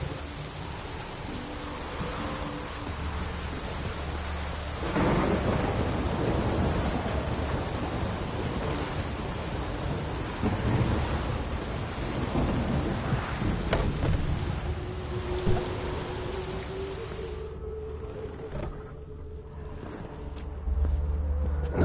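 Heavy rain and rolling thunder in the video game Witcher 3: Wild Hunt on PS4, a dense steady downpour with deep rumbles swelling and fading throughout, quieting briefly near the end.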